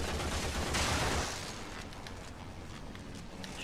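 Enemy gunfire in the shooter game Warframe during Ash farming: a dense burst of rapid shots in the first second and a half, then a steadier rattle of weapons and game effects underneath.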